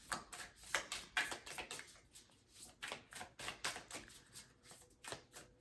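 Tarot cards are shuffled repeatedly up close, a rapid series of crisp riffling bursts and taps in an uneven rhythm.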